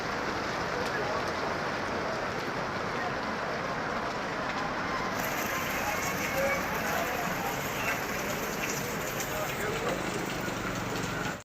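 Heavy rain pours down in a dense, steady roar of drops, close and loud throughout, with no break in the downpour.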